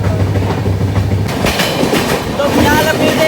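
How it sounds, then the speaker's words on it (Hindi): Janshatabdi Express train running alongside and overtaking the Bhuj–Bareilly Ala Hazrat Express, a loud steady rumble of wheels on rails with clickety-clack and faint squeals, heard from inside the moving train. "तो फिलहाल अपनी ट्रेन ओवरटेक मारी है आला हजरत एक्सप्रेस को"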